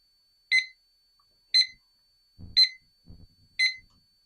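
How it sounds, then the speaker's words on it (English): A digital kitchen timer gives single sharp, high beeps, repeating four times about a second apart, with a faint low murmur between them. "and it's 1 beep."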